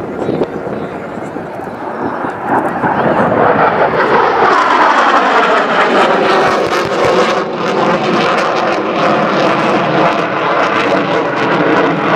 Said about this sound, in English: you will see the Hornet roll in, acquire his target, go back to forward flight